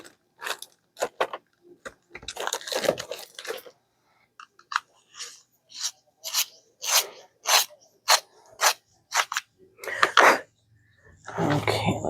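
A tool is sharpened nearby, making a series of short, regular rasping grinds close to the listener, with a person talking in between some of the strokes.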